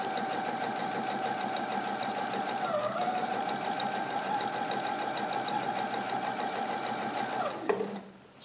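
Brother PE 770 sewing machine stitching fabric for a Hawaiian aloha shirt, a steady close rapid whirring hum that runs unbroken for about eight seconds, dips briefly in pitch midway and stops abruptly at the end.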